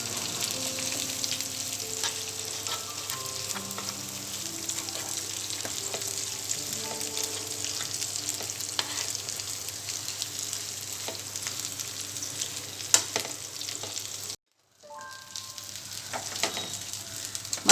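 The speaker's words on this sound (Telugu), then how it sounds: "మసాలా మొత్తం బాగా ఫ్రై చేసుకోవాలి." Masala-stuffed brinjal curry fries steadily in a pan with a constant close sizzle, occasional stirring knocks and faint background tones, then a brief cut to silence before the sizzle resumes.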